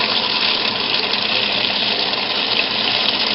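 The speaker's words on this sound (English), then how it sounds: "we add the water to it first" Water pours steadily into a wash tub holding Lego pieces. The gushing flow is loud and even, like a running tap, and no one speaks.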